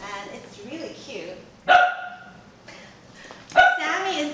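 A pet dog barks indoors in a kitchen near the oven, two loud sharp barks a couple of seconds apart, with quieter yips and whimpers in between.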